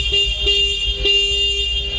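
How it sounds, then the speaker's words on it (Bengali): Horn of a 2024 Bajaj Discover 125 motorcycle in fresh condition, sounded as three short, close, loud beeps in quick succession over a steady background hum. "বাইকের হর্ন,"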